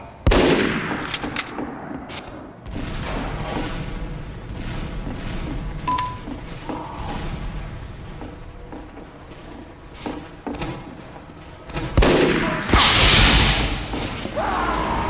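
Gunfire in Team Fortress 2, with bursts of rapid shots and sharp impacts, loud and close, separated by quieter mechanical clatter.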